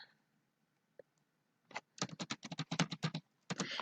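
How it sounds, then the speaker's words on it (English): A computer keyboard is typed on in a quick run of crisp, close keystrokes, with a few isolated clicks before it and a short pause near the end. "Just click Find a Site and type in Bekkum."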